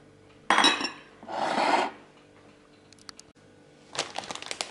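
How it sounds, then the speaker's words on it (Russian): Grapes tumble into a clear glass bowl in two loud bursts of clattering and clinking, followed by a few light taps and a final rattling pour. "Теперь я сюда добавляю виноград."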